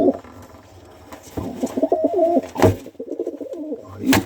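Tippler pigeons, two cocks, cooing up close in a loft, with repeated throaty rolling coos and a few wing flutters and bumps.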